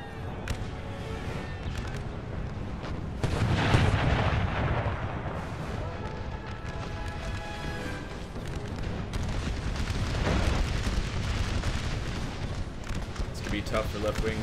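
American Civil War cannon fire from a strategy game booms repeatedly, heavy and rumbling, in a continuous battle din with distant volleys while someone commentates over it.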